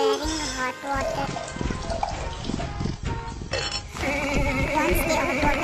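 Hot water being prepared for orange juice splashes and trickles in a kitchen, steady liquid pouring with drips, close and fairly loud, with some clattering of utensils alongside.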